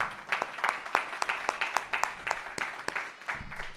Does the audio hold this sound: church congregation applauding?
yes